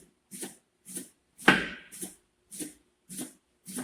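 A knife chops through a leek on a cutting board, with seven evenly spaced sharp cuts about every half second and one heavier, longer cut near the middle, close and crisp with no talking.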